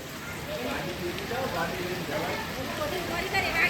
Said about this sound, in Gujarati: વરસાદ ફૂલ ચાલુ છે